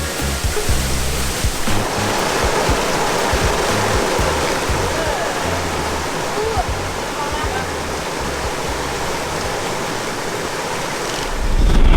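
Cascade Didier, a waterfall in Martinique, roars in a continuous, dense rush of falling water heard up close, loud and unbroken for the whole stretch.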